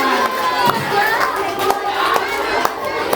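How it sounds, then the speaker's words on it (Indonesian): A group of elementary school children clapping and cheering together, lively and close, with excited voices mixed in throughout. "Tepuk tangan dulu dong untuk teman di depan."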